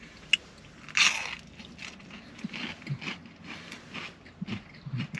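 Big crunchy onion rings being bitten and chewed close up, a sharp crunch followed by several irregular crisp bites and mouth noises, quiet with no talking.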